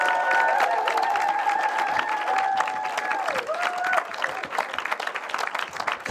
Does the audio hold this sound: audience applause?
yes